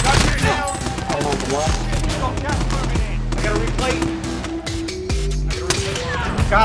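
Dense gunfire in Call of Duty Warzone's Verdansk battle royale: loud rapid automatic bursts and single shots crowd together continuously, with players' voices mixed in among the shooting.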